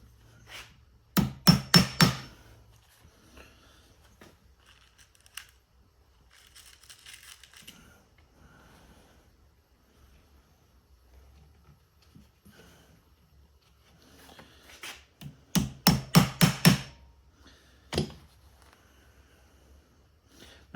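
Number 2 tacks are hammered against an anvil while building a classic Shaker box, with two separate bursts of sharp, ringing metallic strikes in quick succession and quiet pauses between.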